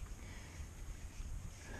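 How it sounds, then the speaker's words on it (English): Strong wind blows outdoors on open ground, a constant loud rushing roar buffeting the microphone with low gusty rumble throughout and no talk. "I'm blocking the wind with my body so you guys can hear me."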